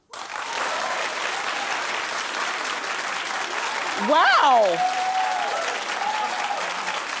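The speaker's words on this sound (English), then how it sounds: "Clap if you agree with Michelle" A TV talk show studio audience claps steadily and loudly for the whole stretch, swelling slightly midway, while a voice briefly exclaims over the applause.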